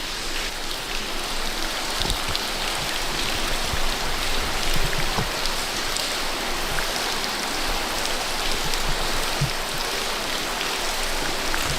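Heavy rainwater flows and pours through a cave in a dense, continuous wash that stays loud and unbroken throughout.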